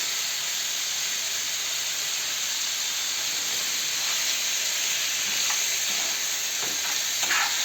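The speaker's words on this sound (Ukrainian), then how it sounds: "Я на сковорідку кинула смальцю і тепер оцього м'яса кидаю." Chunks of meat sizzle and crackle steadily in melted lard in a frying pan while goulash is being cooked, a loud, continuous hiss with occasional sharper pops.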